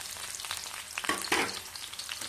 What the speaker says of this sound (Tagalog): Lunod na natin yung ating red onion.